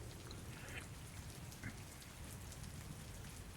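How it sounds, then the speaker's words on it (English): Steady rain falls in a dense, even hiss of droplets, continuous and fairly soft, with no voices or other sounds breaking through. "I like my rain."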